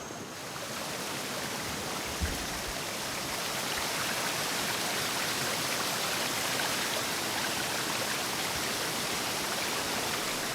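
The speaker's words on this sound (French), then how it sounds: "Des cascades comme celle-ci, il en existe des dizaines dans cette forêt." A forest waterfall in Burundi's Kibira forest roars as a dense, unbroken wash of falling water, loud and even from start to finish with no voices.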